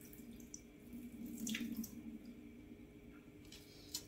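Water poured off soaked potatoes in a kitchen sink, a steady running and splashing stream that swells in the middle and trails into a few drips, fairly close and alone.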